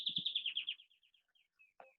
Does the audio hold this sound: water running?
no